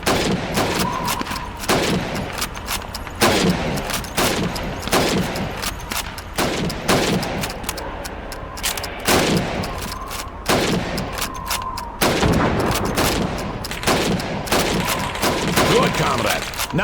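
Repeated rifle shots ring out in a Call of Duty 2 training drill, a soldier firing at helmets against a countdown; sharp cracks come in quick irregular bursts across the whole stretch, loud and close, with faint background voices.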